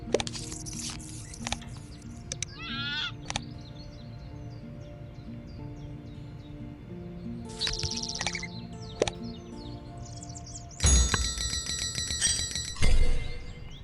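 A flamingo bird call in the digital board game Wingspan comes as short chirps and calls among chiming game effects, with a louder burst of bright sound near the end and no talk.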